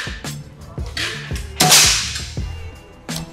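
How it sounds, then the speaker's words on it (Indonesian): A Black Panther side-lever air rifle is fired: one loud, sharp crack stands out among several quieter snapping clicks, all close by with no talking. "Kita akan coba tembakan yang pertama."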